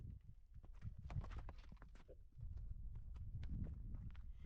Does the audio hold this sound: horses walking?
yes